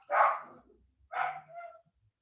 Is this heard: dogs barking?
yes